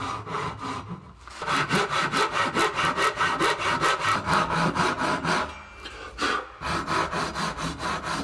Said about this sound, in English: As much as I like using this saw, it's the wrong type for rip cuts